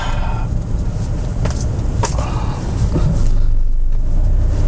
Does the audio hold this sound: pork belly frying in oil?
no